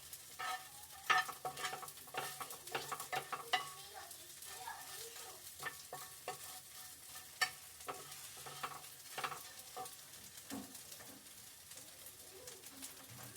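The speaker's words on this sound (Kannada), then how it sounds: "ಎಣ್ಣೆ ಕಾಯ್ದಿದೆ, ಹಸಿಮೆಣಸಿನ್ಕಾಯಿ ಹಾಕೋಣ, ಬೆಳ್ಳುಳ್ಳಿ ಹಾಕೋಣ. ಸ್ವಲ್ಪ ಫ್ರೈ ಆಗಿದೆ" Green chillies and garlic sizzle and fry in hot oil, with a steady crackle and intermittent stirring clatter close by throughout.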